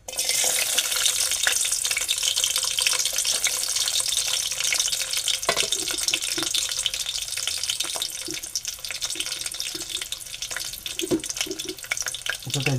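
Garlic dropped into two spoonfuls of hot oil sizzles steadily, a loud, close, unbroken frying hiss with occasional small pops and clinks over its whole length.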